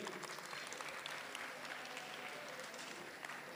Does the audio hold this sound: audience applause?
yes